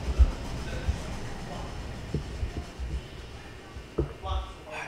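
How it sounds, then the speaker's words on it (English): A train-like rumble plays during a cutscene in the video game Super Mario Odyssey, a low steady mechanical roll with a few brief clanks, moderately loud and mixed with game sound effects. "Sounds like a train."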